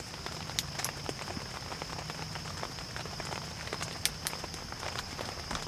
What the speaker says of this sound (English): The rain is hitting on my head